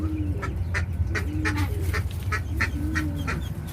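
Ducks being fed corn mixed with powder quack and honk repeatedly in a rapid, overlapping series, close by and fairly loud over a low background rumble.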